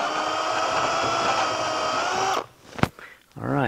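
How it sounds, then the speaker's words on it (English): A power drill runs with a steady whine as a 5/8 inch bit bores a hole for a shaker table modification, then stops abruptly and gives way to a few brief knocks and a voice. "Looks like I'm gonna have to put a 5/8 drill bit in there to make it fit."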